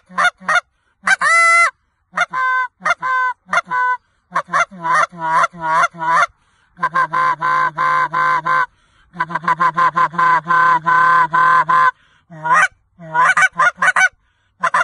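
A goose hunting call from a new gut system is blown in a rapid series of loud, honking goose notes, bursts and clucks separated by short pauses, close and alone without speech.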